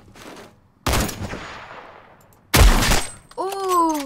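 Gunfire from a gun in a Roblox video game: two loud, separate bursts of shots, each followed by a decaying tail, with a voice rising briefly at the end.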